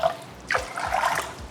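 Water poured into a mixing bowl while making a clear cake, a steady close trickle and splash running about a second after a brief quiet start.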